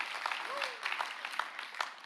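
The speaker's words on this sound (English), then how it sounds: "Yeah, clap again." Church congregation clapping at a pastor's prompt during a service, a steady crackle of many hands with a few louder claps standing out, at moderate level with a faint voice underneath.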